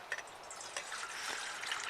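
Water poured into a steel pot while preparing backcountry mashed potatoes, a steady quiet splashing trickle that runs throughout with a few brighter drips near the start.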